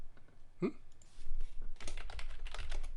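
Typing on a computer keyboard nearby produces a rapid cluster of clicky keystrokes in the second half. It follows a brief vocal blip and some quieter taps.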